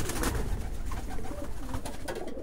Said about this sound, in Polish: W klatce te fajne postawne ptaszki.